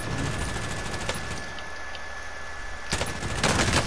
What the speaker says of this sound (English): now we're in a better position so we can shoot him